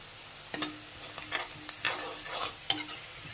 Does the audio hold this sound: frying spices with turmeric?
yes